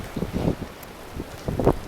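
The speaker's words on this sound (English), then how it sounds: "Damn, that wind." Strong gusts of wind buffet the microphone during a rain storm, swelling and dropping in loud, rough surges of roaring noise with no speech.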